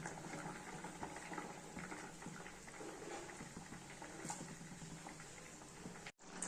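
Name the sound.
curry gravy boiling in a pan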